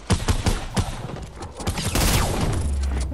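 Burst gunfire in a video game, several rapid sharp volleys in quick succession, loud and close, ending in a denser rattling spray.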